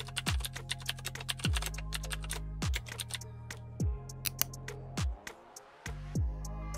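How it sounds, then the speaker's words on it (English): Steady typing on a computer keyboard as a text prompt is entered into an AI tool, with crisp clicks in runs and heavier thuddy strokes every second or so, close and clear. "Type your prompt."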